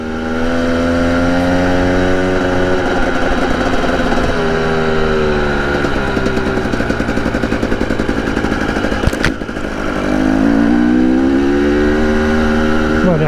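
Close and loud, a 2021 Husqvarna TE 300i two-stroke dirt bike engine revs in rising and falling sweeps, settles into a rapid idle-like burble, then revs up again as the bike pulls away.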